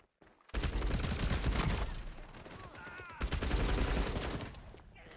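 Rapid gunfire bursts in the shooter game FragPunk, loud and dense, with a brief lull near the middle before another heavy volley.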